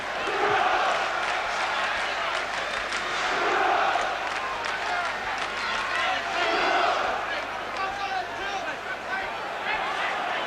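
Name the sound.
boxing crowd cheering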